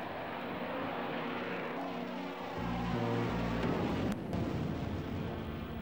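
A French Dassault Rafale fighter jet roars with steady, broad engine noise, and a heavier low rumble swells midway through, loud and continuous.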